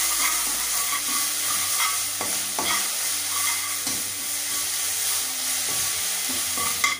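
Ginger garlic paste hits a hot pan with onion paste and fries with a continuous sizzle, punctuated by frequent spoon-stirring clinks and scrapes, close and fairly even.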